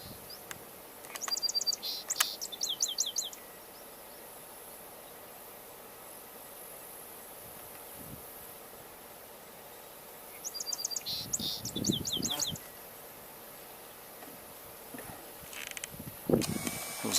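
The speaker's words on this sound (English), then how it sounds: "It was a song sparrow you were hearing just moments ago." A song sparrow sings twice in an outdoor wetland setting, two bursts of bright trills and notes over steady insect hum and faint background noise, moderately distant.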